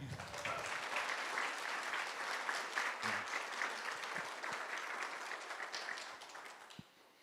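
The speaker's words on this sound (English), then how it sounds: "let's give our donors a big round of applause" Clapping from the crowd at a guide dog graduation ceremony for donors, a broad, even wash of applause that holds steady and then tapers off toward the end.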